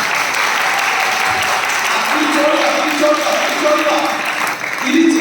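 Steady, dense hand clapping from a parish congregation at a church retreat in Palappoor, a continuous wash of claps with voices speaking and calling over it throughout.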